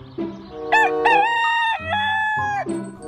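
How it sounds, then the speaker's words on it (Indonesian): A rooster crows loudly and close by, one long cock-a-doodle-doo with rising and sustained harmonic notes. "ini ayam"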